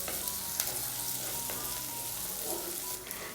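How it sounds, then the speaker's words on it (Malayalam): Small onions sauté in oil in a pan for a Kerala-style fish curry, a steady close sizzle and crackle with occasional stirring scrapes, no voices. "നമ്മുടെ ഈ ചെറിയ ഉള്ളിയെല്ലാം ഇങ്ങനെ കണ്ണാടി പോലെ ഇങ്ങനെ ആകുന്നത് പോലെ നല്ലതുപോലെ ഒന്ന് വഴണ്ട് കിട്ടുന്നത് വരെ ഒന്ന് വഴറ്റി കൊടുക്കാം"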